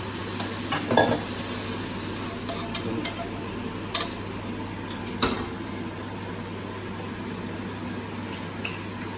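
A pan on the stove gives steady sizzling and frying with intermittent sharp clicks and scrapes of stirring as risotto starts to cook, close and without speech.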